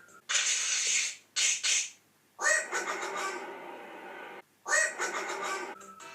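In the video game Super Mario Sunshine, Mario's voice imitates a duck with a string of quacking, squawking bursts in uneven clusters, loud and close, alone without other talk.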